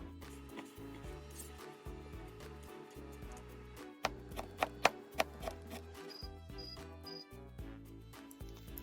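A knife chops ham on a board in a quick run of sharp, close taps, with a short burst of louder strikes in the middle and quieter cuts around it.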